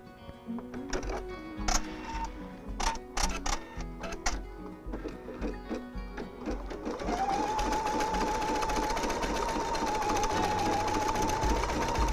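A Viking Epic 2 embroidery sewing machine stitching a design onto fabric, starting with irregular clicks and taps, then settling into a steady, rapid mechanical chatter with a constant whine, close and moderately loud.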